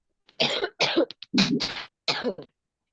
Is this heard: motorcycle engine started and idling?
no